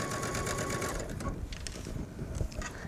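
A sewing machine runs a steady, rapid needle chatter while stitching twill tape along the neckline of a Bella Top, close up and continuous, softening slightly partway through.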